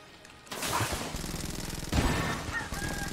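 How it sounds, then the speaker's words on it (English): Chicken clucking inside the Enter the Gungeon video game, with game effects and gunfire-like bursts mixed in. The clucks come in close, rhythmic runs over a busy game soundtrack, with no voices. "What's with the chicken?"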